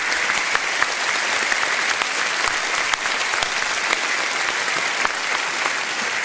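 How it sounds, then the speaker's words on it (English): Sustained audience applause at a Reform UK political rally, dense steady clapping from a large indoor crowd with no voices over it. "Just a round of applause for them before we move on."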